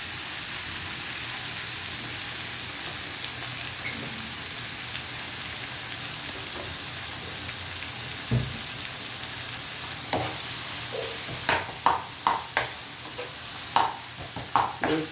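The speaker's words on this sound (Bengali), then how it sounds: "সরিষার তেল দেওয়ার লাগে প্রথমে, তারপরে তেলটা গরম করার পর পেঁয়াজ" Onion frying in hot mustard oil in a pan, a continuous bright sizzle with crackling pops that grow sharper and more frequent toward the end, close up and alone.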